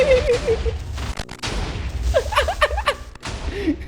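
Minecraft explosions and gunfire crackle in rapid bursts amid electronic tones and effects, loud and chaotic over a few seconds.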